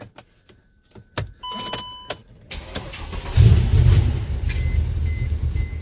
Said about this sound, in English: It's got that E85 kit, and it runs like garbage right now.